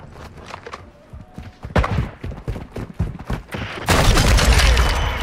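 Gunfire in a video game comes as bursts of rapid shots that build into a dense, loud fusillade near the end, with scattered thumps in between.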